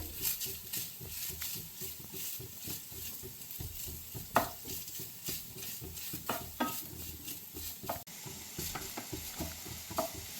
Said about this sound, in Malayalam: ഇനി നമ്മൾ നല്ല പോലെ ഇളക്കി കൊടുക്കണം